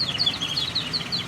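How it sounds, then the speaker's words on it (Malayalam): A clay water-filled bird whistle blown in a rapid run of high, warbling chirps, shrill trills repeating close and clear over a faint background hum. "ഇപ്പോൾ ഇതാണ്, ഇതൊരു വിസിലാണ് കേട്ടോ."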